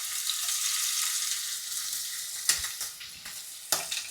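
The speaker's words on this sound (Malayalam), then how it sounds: "ചെമ്മീൻ ഒന്ന് ഫ്രൈ ചെയ്തെടുക്കാൻ വേണ്ടിട്ട് പോവാണ് കേട്ടോ ഫുൾ ഫ്രൈ അല്ല ഒരു ഷാലോ ഫ്രൈ അത്രയേ ഉള്ളൂ" Marinated prawns shallow-fry in a pan for prawn roast, giving a steady close sizzle, with a few sharp utensil scrapes toward the end and no talking.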